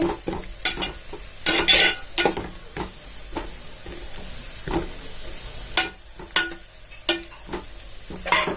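Chicken salna ingredients fry in peanut oil with a steady sizzle, broken by repeated scraping clatters of a spoon stirring the pan, each knock sharp and close, with no voices over it.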